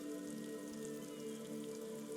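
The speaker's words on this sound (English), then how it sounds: "Rain drips from the eaves and floods the gutters, washing the filth away." Steady rain falls over the city of Revachol in the video game Disco Elysium, dripping from eaves and running into gutters, a soft continuous patter under faint ambient tones throughout.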